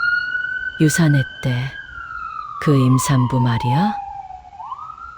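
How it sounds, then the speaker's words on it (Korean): Ambulance siren wailing down a hospital corridor as a steady, fairly loud tone with a slow pitch glide, heard under hushed voices of people talking over it. "복도에 구급차 소리가 울려 퍼졌다."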